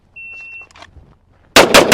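A shot timer beeps once, then a Kimber Rapide 1911 pistol fires two loud, sharp shots in quick succession, close by.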